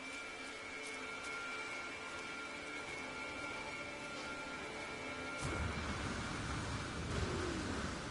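A thunderstorm in the video game No Man's Sky: a steady, soft wash of rain and rumble that swells noticeably louder partway through, with no talking.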